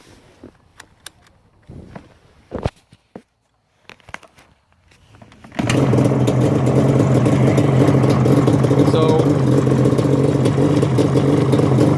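A few scattered clicks and thumps, then a Yamaha Banshee two-stroke ATV engine bursts to life from a cold start and keeps running loud and steady with a rattly, buzzing drone.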